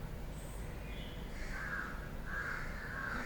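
Birds call outdoors in Mumbai, a few faint, distant caws and chirps drifting over a constant low background murmur.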